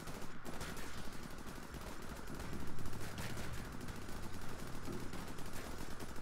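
Rapid gunfire from a ProtoStrike match crackles continuously in a dense, busy mix of shots and game effects, loud throughout with a slight swell midway and no voices.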